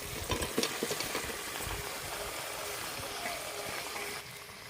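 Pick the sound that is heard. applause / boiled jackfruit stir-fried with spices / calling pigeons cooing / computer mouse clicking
boiled jackfruit stir-fried with spices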